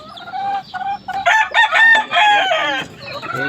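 A young gamecock stag crows loudly and close, a rough, slightly broken crow rising and trailing off, with a few clucks around it.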